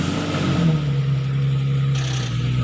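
A Porsche 997 GT3 RS engine fires up and settles into a loud, steady idle drone, heard close from inside the car with no voices.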